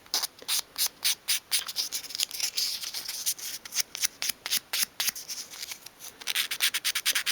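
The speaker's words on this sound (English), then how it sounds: "So I'll bring in my piece of 500 grade sandpaper again." A small wooden piece of a 1/12th scale dolls house kitchen dresser is sanded by hand with fine 500 grade sandpaper, giving rhythmic bursts of close, soft scratchy rubbing strokes, repeated many times with brief pauses.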